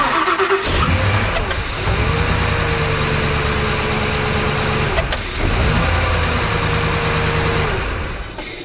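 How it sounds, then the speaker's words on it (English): A truck engine cranks and catches on a portable jump starter with no battery connected, then a second crank follows; loud, close starter whine and engine roar run throughout. "I'm gonna try starting it without the lawnmower battery attached."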